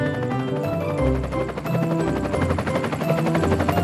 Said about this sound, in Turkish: Bu bir helikopter.